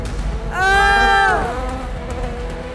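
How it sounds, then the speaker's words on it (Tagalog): A loud buzzing of bees swells for about a second, a tonal droning hum over quieter background noise. "Bubuyog! Bubuyog!"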